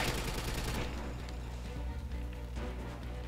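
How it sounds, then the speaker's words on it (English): Rapid automatic gunfire from a weapon in GoldenEye 007 Reloaded rattles loudly at first, then continues as lighter, scattered shots over a steady low rumble. "now it seems to be on auto fire"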